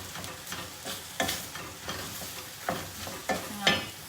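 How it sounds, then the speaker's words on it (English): Beef stew with bay leaves being stirred in a cooking pot, a soft continuous scraping and sizzle broken by several louder spoon knocks and scrapes at irregular intervals, close and without talk. "I'm going to give it a stir"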